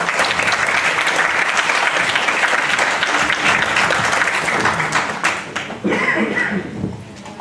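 Conference audience at a symposium on biofeedback in neuroscience applauding to welcome a speaker, loud sustained clapping from many hands with a few chuckles, thinning slightly near the end.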